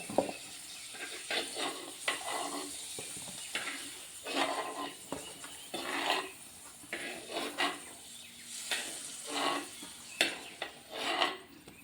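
Ingredients for a roasted-ground papaya curry frying in a pan, a soft steady sizzle broken by repeated scraping stirs at irregular intervals, close and moderately quiet with no talking.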